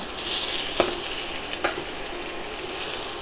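Turkey browning in a pan gives a steady, dense sizzle up close, broken by two brief soft scrapes, with no talk.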